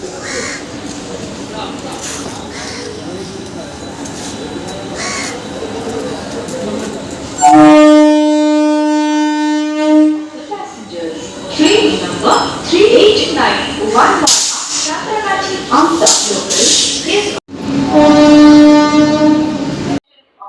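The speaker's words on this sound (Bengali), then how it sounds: "এখন ট্রেনটি আসলো পাঁশকুড়া থেকে সাঁতরাগাছি লোকাল।" A Panskura–Santragachi local train pulls into a station, sounding a loud sustained horn blast, then rumbling and clattering close by, with a second horn near the end and crows cawing in the background.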